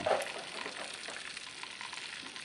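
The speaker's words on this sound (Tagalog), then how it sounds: "nakapag-fry na tayo ng 4 na chicken" Chicken fries in hot oil, giving a close, steady crackling sizzle with dense pops that runs without pause. Nobody speaks.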